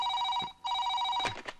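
A telephone rings in short repeated electronic bursts, close and clear, with a brief gap between rings and a couple of faint clicks near the end.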